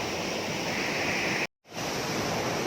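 A waterfall on the Ovally Chundy river in the Nilgiris roars as a steady, loud, dense rush of water that cuts out briefly midway before resuming.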